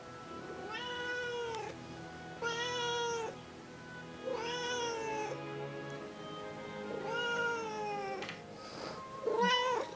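Cat meowing repeatedly, several drawn-out, tonal meows spaced a second or two apart, fairly close and clear, with a quiet room behind.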